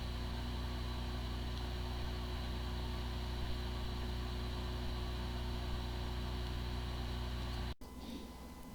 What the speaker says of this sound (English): The following is the sound from one of the hard drive which experienced disk firmware corruption